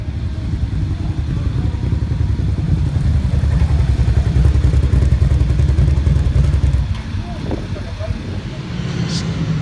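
A racing motorcycle on wet weather tyres at Snetterton's wet track, a steady rumbling engine roar heard from a distance, fading slightly toward the end as a voice talks over it.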